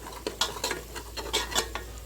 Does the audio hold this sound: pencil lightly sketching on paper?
no